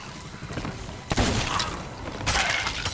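A few heavy broadband blasts of cannon fire in Sea of Thieves, two sharp booming volleys standing out over a constant noisy rumble.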